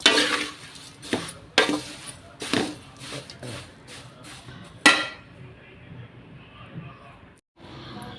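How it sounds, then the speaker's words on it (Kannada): Flattened rice (poha) being dry-fried in a pan on a gas stove and stirred with a utensil: close, irregular scraping rustles and several sharp metallic knocks against the pan, over a faint sizzle. "ಅದಕ್ಕೆ ಗ್ಯಾಸ್ ಮೇಲೆ ಫಸ್ಟ್ ಸ್ವಲ್ಪ ನಾವು ಈ ಥರ ಫ್ರೈ ಮಾಡ್ಕೋಬೇಕು."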